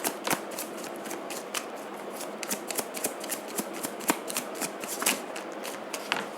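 Tarot cards are shuffled close by with quick papery riffles and soft slaps. The bursts come in an uneven rhythm, are fairly crisp, and carry no voices.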